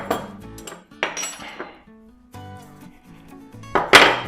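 Cookie dough with salt and baking soda is mixed in a bowl, with scattered clinks and scrapes of a utensil knocking against the bowl in irregular bursts, separated by brief quiet gaps.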